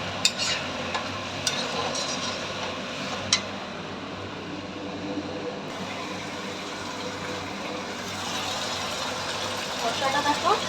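Spices fry and are stirred in a pan on a home stove at Christmas, giving a soft continuous sizzle with occasional scraping clinks of the spoon, low and fairly steady throughout.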